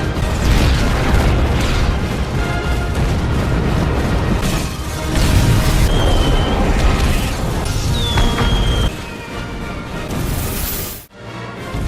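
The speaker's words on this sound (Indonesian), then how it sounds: "lantunan musik klasik Overture 1812 pun kembali menggema mengiringi ledakan-ledakan yang menghancurkan gedung-gedung parlemen itu" Explosions tear through the Parliament buildings in a film scene scored with the 1812 Overture, heavy booms and crashing blasts rolling one after another over loud orchestral music before a sudden brief drop near the end.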